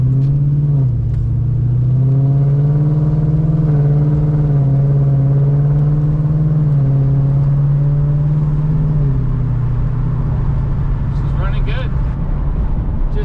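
Car with a swapped-in Coyote V8 running steadily with stock brakes and exhaust not yet finished, a loud deep drone that climbs and drops as the automatic shifts through gears, with a voice talking over it.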